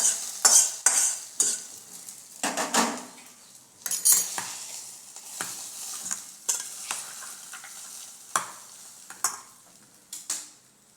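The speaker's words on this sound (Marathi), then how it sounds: "दह्यामध्ये भातामध्ये आपली फोडणी आपण घालून घेऊया" A utensil stirs and scrapes spice tempering into thick curd rice in a bowl, with repeated close strokes in an irregular rhythm and no voices.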